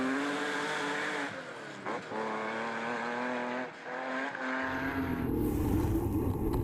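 An FSE Porsche rally car passes a checkpoint on a stage of the Legend Boucles de Spa 2012, its engine clear and revving through gear changes, then a rough, rushing burst of gravel and exhaust as it drives off.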